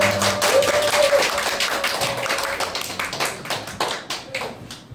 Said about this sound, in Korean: 우리 수고한 학생부에게 박수 한번 부탁드리겠습니다.